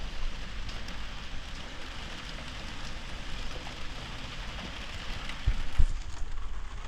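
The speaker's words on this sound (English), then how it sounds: "I'm really hoping the rain eases off, because at the moment it's horrible." Heavy rain falling outdoors, a dense continuous roar of drops on surfaces with a low rumble underneath, growing slightly louder and with a couple of thumps near the end.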